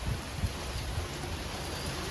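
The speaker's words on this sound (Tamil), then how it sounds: "திடீர்னு நல்லா காத்து மழை." Sudden wind and rain outdoors, a soft steady rushing wash with low gusty rumbles, faint and continuous with no voices.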